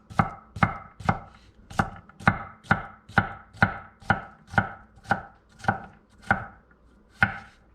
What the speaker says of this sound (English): And then I'm just gonna chop this up.